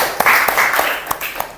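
Brief classroom applause after a student presentation, a handful of scattered hand claps close by over a short stretch, no talking.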